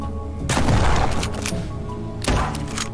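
Shotgun buckshot blasts at zombies in Night at the Gates of Hell, two loud close booms about two seconds apart, each with a short rumbling tail.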